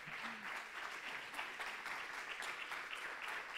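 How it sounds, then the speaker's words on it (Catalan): Steady applause from an audience at a research day awards ceremony honouring prizewinners, continuous dense clapping filling the room at moderate level throughout, with no voices over it. "un fort aplaudiment per tots ells"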